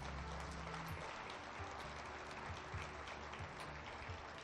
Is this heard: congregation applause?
yes